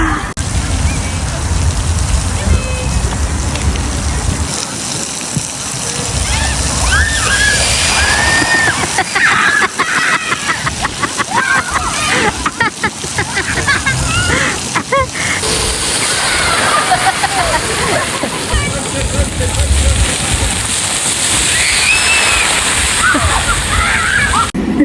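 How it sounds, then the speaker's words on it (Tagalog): Heavy rain pours and sloshes loudly and close during a family day trip in Wales, with splashing water throughout and people talking and exclaiming over it. "ang lakas ng ulan"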